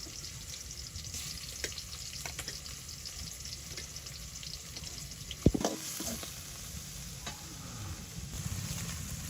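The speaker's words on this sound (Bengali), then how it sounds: "তো এই যে এখানে ইসা মাছগুলো তেলে দিয়ে নিতেছি।" Small river fish (isha) frying in hot oil in a village kitchen, a steady close sizzle throughout with a few brief stirring clanks near the middle and no talk.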